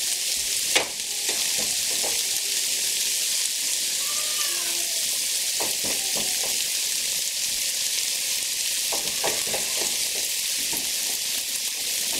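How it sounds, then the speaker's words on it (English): Italian sausage and cabbage cook in a pan under a steady, loud sizzle, with a few short scraping stirs from a floppy spoon that come and go. "I'm going to add a little bit of that Italian sausage to it and mix it up"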